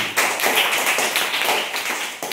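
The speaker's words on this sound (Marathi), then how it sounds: "टाळ्या वाजवा तिच्यासाठी" Children in a Marathi-medium primary school classroom clap for a classmate, a dense burst of many small hands continuing steadily and close for about two seconds with no talking.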